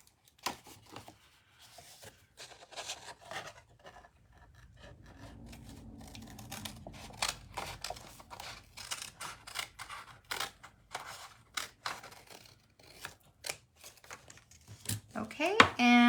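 Scissors cut through paper card for a decorative DIY card storage box, giving a run of sharp, close snips and rasping scrapes that grow busier toward the end, with soft handling rustles between cuts.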